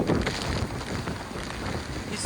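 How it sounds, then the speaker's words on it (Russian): Strong stormy wind buffets the microphone on a seaside promenade at night, a dense, continuous roar of gusts and rumble without a break. "И очень сильный ветер."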